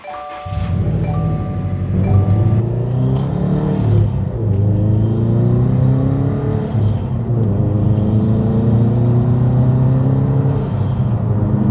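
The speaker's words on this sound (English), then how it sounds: "All right, let's go for our first drive." A rebuilt Subaru STI on its first drive pulls away and accelerates through the gears, its engine rumbling loud and close from inside the car with rising revs and a gear change, no talking.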